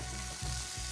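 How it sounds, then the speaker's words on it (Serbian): Vegetables sauté in a hot pan in a TV cooking-show kitchen, making a soft, steady sizzle with two brief stirring bumps, quiet and with no talk. "sotiramo povrće"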